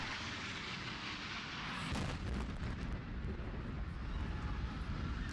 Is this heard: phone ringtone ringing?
no